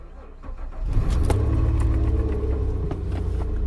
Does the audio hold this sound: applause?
no